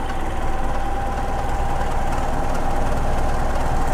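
A Toyota Kijang engine idles steadily, a continuous low rumble with a faint mechanical knock running evenly and fairly loud throughout, with no voices.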